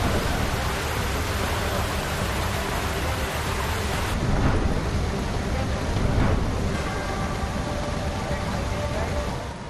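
Heavy rain pours in a dense, steady roar, with low thunder rumbling through it a couple of times.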